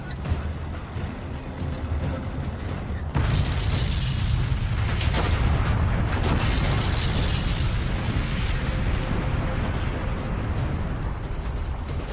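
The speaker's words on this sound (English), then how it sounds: "Sevastopol, Crimea's great military port, is crushed by giant cannons." Heavy, continuous booming of giant cannons shelling Sevastopol, Crimea, a dense low rumble that jumps louder partway through and keeps pounding with no voices.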